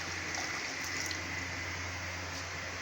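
Water runs and splashes faintly into a cooking pot of oil against a low steady hum, with a few brief clinks near the start.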